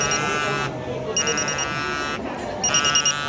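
A restaurant order-ready alarm buzzer in Hiroshima sounds in repeated loud, shrill electronic bursts separated by short gaps, with a low murmur of voices and room noise beneath.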